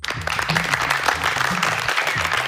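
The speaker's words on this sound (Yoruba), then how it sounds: "Ó yẹ pàtẹ́wọ́ fèmí náà." A group claps together during a Yoruba children's game show, a dense, steady patter of hands over low tonal sound, with no speech.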